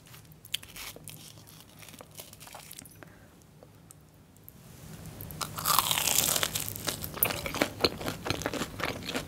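Loud, close crunching and chewing of a cheese-filled Korean corn dog, softer at first and then a burst of crisp bites swelling midway, with no talking.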